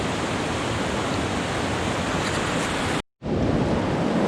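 Muddy and clear river water rushing along the Vedder River after a landslide, a loud, steady broadband roar interrupted by a brief cut before the torrent resumes, with no voices.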